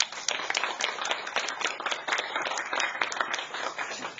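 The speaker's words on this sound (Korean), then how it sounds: "박수로 마치겠습니다" Closing applause from a forum audience at the 2017 Jeju Forum, individual claps distinct and brisk, a modest crowd clapping continuously for a few seconds.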